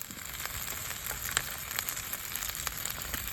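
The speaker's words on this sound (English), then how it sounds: "the alcohol stove's blooming now, so the pan's getting a bit hot, so we've got a bit of noise going on" Ribeye steak in a pan over an alcohol stove at a wild camp by Grisedale Tarn in the Lake District, a quiet steady crackling sizzle with scattered soft pops, faint and continuous, no talk.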